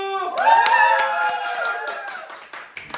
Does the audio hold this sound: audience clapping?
yes